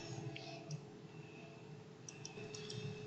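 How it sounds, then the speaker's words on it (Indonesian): Keyboard typing while entering a question into a tutoring website, with quiet, irregular key clicks in short bursts over a low background hum. "Setelah itu bisa diketik pertanyaan di sini."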